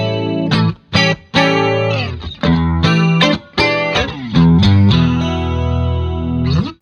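An electric guitar with both pickups selected by a middle toggle switch plays through an amp, loud distorted chords struck in rhythmic bursts with brief gaps between.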